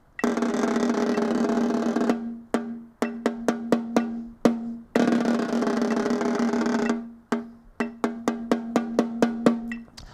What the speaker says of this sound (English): You can either play what we call a crush roll, which is pretty much what I was doing just then.